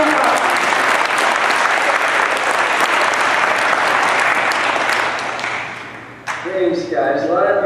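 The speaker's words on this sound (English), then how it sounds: "let's give this one a warm Lafayette applause" An audience in Lafayette gives warm, sustained applause, a dense wash of clapping that fades toward the end before a single voice begins speaking.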